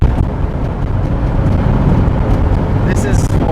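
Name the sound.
Subaru-engine-swapped Volkswagen van upshifting while driving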